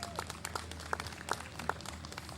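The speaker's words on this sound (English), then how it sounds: "So a big round of applause for the Soroptimists today." Light applause breaks out for the Soroptimists at an outdoor awareness walk in Baker City, Oregon: quiet, scattered claps with a few sharper ones standing out, heard from a distance.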